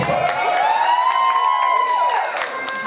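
A live crowd cheers and shouts for a contestant stepping onto a stage, a dense, steady roar with a long rising whistle riding over it for about two seconds.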